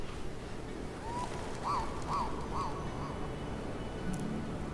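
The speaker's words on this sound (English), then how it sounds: "More birds freaking me out." Birds quack in the video game Tomb Raider Underworld, a short run of three or four nasal calls rising over a steady ambient game backdrop, moderately loud with no talk over them.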